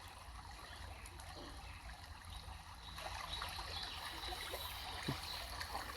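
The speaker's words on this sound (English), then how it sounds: "This river is gently flowing." A gently flowing salmon river trickles and burbles softly at close range, a faint continuous watery murmur with small splashes, alone without voices.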